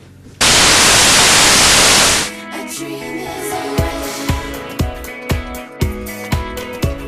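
A burst of loud, hissing TV static fills about two seconds, then cuts to a channel's clattering, rhythmic program sound with sharp regular beats.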